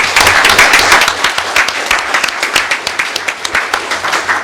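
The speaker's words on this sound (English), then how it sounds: "Give those two men another round of applause" An audience at a city commission meeting applauds two men. It opens as loud, thick applause and then thins into scattered, separate claps as it fades out.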